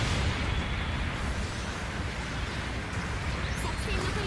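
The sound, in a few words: explosions in a video game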